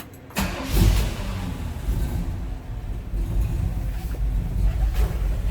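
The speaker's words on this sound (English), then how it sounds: "Nice little rumble coming out of that 350" A 1959 Ford F100 street rod's 350 V8 cranks and catches after a brief pause, then settles into a steady, close, low rumbling idle with slight swells in loudness.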